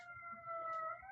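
A distant siren wails faintly at a steady, slightly rising pitch, alone and quiet over low background rumble.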